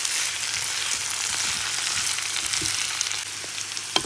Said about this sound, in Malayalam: ഈ മധുരക്കിഴങ്ങിന് നമുക്ക് ഈ സവോളയിലും വെളുത്തുള്ളിയിലും എല്ലാം കൂടെ നന്നായിട്ടൊന്ന് ഇളക്കിയെടുക്കാം